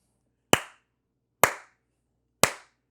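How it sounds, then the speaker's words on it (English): Three sharp hand claps spaced about a second apart, loud and close in a quiet room, used to sync a recording before an anime discussion podcast. "You want to clap 3 times?"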